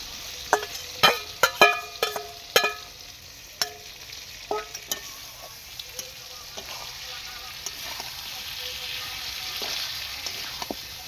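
A burst of sharp metallic clinks and scrapes of a spoon stirring in a pan, then a softer steady sizzle of marinated meat frying in oil continuing close by.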